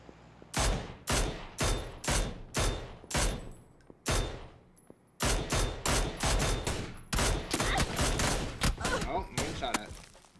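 Video game gunfire: a series of loud, close single shots at an even pace, each with a short decaying tail, followed by quicker, denser volleys near the end.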